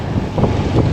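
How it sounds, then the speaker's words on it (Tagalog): Strong wind buffets the microphone outdoors near open water, a steady broadband roar with gusts rising slightly midway through, loud and continuous with no voices. "lakas ng hangin"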